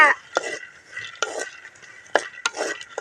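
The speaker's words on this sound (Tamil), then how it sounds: "கடலைப்பட்டை சேவிட்டு நல்லா வறுத்துக்கணுங்க" Groundnuts roast dry in a pan while a spoon stirs them, giving repeated scraping and clattering strokes at an irregular pace over a quiet background, with no speech.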